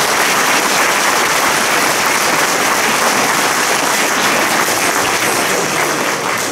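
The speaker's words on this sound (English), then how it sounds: "if we could just give her and her staff a round of applause" Loud, sustained applause fills a school auditorium at an elementary school veterans program, a dense, even wash of clapping from a large audience lasting several seconds.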